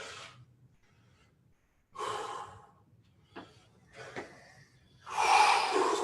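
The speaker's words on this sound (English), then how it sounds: "So you're breathing now." Heavy, ragged breaths from a man resting during a TRX suspension training workout: a few sharp gasps and snorting exhales separated by near-silent pauses, close up, ending in a loud, long breath.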